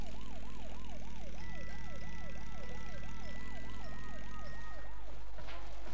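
Police siren wailing in the video game Bully Scholarship Edition, a steady rising-and-falling cycle repeating about every half second over low engine rumble, loud and continuous before breaking up at the end.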